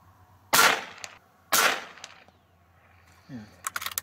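An air rifle fires pellets at a target, two sharp, loud shots about a second apart, each followed by a short ring, then softer mechanical clicks and handling noise.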